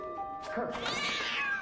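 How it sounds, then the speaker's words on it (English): A cat meows in the 11-11: Memories Retold video game, one drawn-out rising and falling call heard up close, with a voice calling out over the start. "is that cat meowing?"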